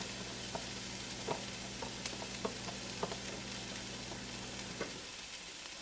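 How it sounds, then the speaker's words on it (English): Chopped vegetables sizzle steadily in melted butter in a hot pan for a low-carb corned beef hash, with occasional soft clicks of stirring, close and constant until the frying quiets near the end. "Oh, the sizzling sound."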